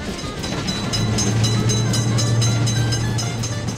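Loud, close train rolling through a road crossing, a continuous rumbling drone with rhythmic clickety-clack of wheels over rail joints and faint high tonal ringing.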